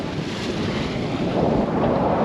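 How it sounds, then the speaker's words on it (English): Steady, loud wind rushes over the microphone aboard a sailboat sailing close hauled on open water, with a broad, continuous roar that swells slightly toward the end and no voices. "the wind is good, I'm making good progress, trimming the sails"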